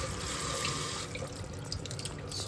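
Tap water runs steadily in a kitchen sink while soaked meat is rinsed beneath it, a close continuous stream with slight splashing and drips.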